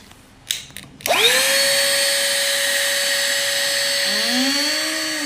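A small handheld vacuum cleaner runs with a high, steady whine, its pitch rising and wavering as it sucks up spilled mustard seeds, after a few brief clicks before it starts.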